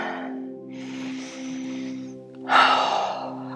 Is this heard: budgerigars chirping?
no